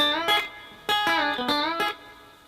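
Electric guitar playing a country rock lick, with several picked notes whose pitch bends upward, in a clear, moderately loud phrase of four attacks with short gaps and ringing sustain.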